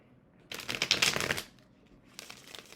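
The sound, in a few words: deck of playing cards being shuffled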